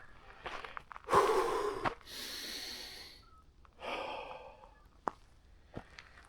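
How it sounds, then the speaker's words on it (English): A hiker on a mountain trail catching their breath, with heavy sighing exhales and snorting gasps in uneven bursts, close and without talking, plus a few faint footstep clicks. "I gotta catch my breath."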